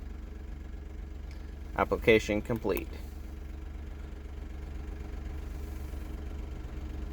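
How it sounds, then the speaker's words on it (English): A Smart Fortwo engine idles with a steady low rumble underneath throughout, while a clutch actuator moves back and forth beneath the car; a short synthetic voice announcement plays briefly over the hum. "under the car right now you can hear the clutch actuator going back and forth,"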